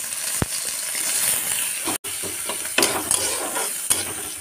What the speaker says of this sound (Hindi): प्याज को पहले फ्राई कर लूँगी।